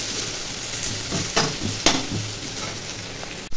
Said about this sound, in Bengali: তেলটা গরম হয়ে গেছে, পেঁয়াজ রসুনটা একটু ভেজে নিচ্ছি।